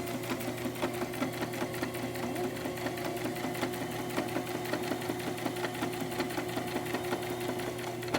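A sewing machine stitches fabric in a fast, even mechanical patter, the needle's rapid ticking steady and close with a faint motor hum underneath.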